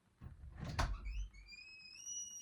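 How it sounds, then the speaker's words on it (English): A door is opened with a short, soft sliding scrape indoors, followed by faint high whistling tones; quiet overall with no talk. "I'm gonna open the door right now"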